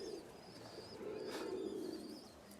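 Pakistani and Rajshahi Giribaz pigeons in a loft give a faint, low, rolling coo in the middle of the clip, set against a quiet room hum with no voices.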